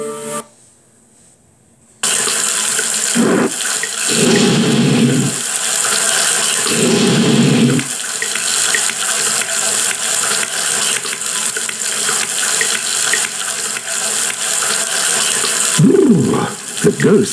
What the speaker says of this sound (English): Ghosts are splashing around with cold water in the bathroom.